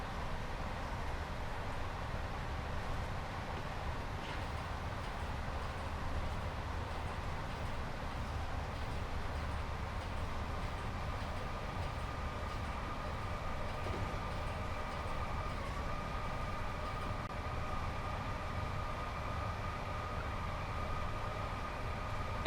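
A Class 86/2 electric locomotive hauls along in Train Sim World 5, a steady, faint rail rumble and hum holding evenly throughout with no voices.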